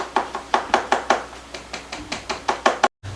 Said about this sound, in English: So I'm just going to keep patting this in until I have it all spread out evenly and tightly into my pan